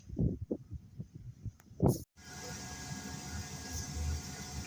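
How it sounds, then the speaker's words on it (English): Workshop heater running on a freezing day, a steady low churning hum that takes over after a few quiet knocks and clicks, continuous and moderately faint. "the heater's churning away because it's freezing"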